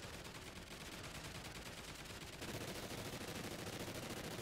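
Continuous rapid-fire explosive ammunition in Call of Duty: Ghosts Extinction, a dense unbroken rattle of shots that grows slightly louder halfway through, with no talking.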